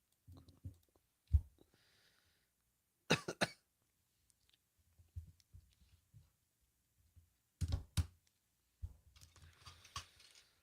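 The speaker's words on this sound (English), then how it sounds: "This cough." A few sharp, close coughs come in separate bursts with quiet gaps between, along with some throat clearing and faint clicks.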